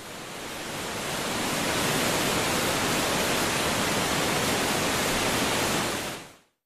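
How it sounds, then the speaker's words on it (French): A torrent of water rushing into a cave in Ecuador after a dam gives way: a dense, roaring wash of water, swelling in and holding steady at full volume before cutting off abruptly. "le barrage cède et le torrent vient s'engouffrer dans la cueva"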